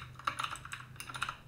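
Quick, light keystrokes tap on a computer keyboard while code is typed, a close, soft, irregular clatter of about a dozen clicks with no talk.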